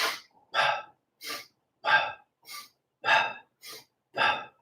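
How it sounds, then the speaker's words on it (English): Sniff-puff burst breathing repeats as a quick sniff in followed by a sharp puff out, about eight short airy bursts in an even rhythm with clean silences between, close and clear with no talking. "you could do 1 rep of this, which is just a sniff in and an exhale out"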